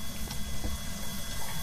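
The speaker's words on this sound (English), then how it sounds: "Did you turn on this shower?" A shower runs indoors as a steady, muffled hiss and low rumble of water, fairly loud and continuous, with no talking during the stretch.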